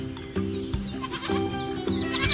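A goat bleats repeatedly, several wavering calls close by in quick succession, loud and clear with no talk over them.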